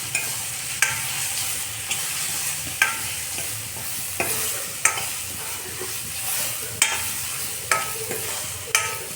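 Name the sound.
stirring garam masala, coriander, turmeric into frying chillies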